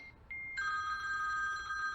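A telephone rings indoors with a steady electronic bell tone that starts briefly, pauses, then sounds continuously and fairly loud for the rest of the moment, with no talking over it.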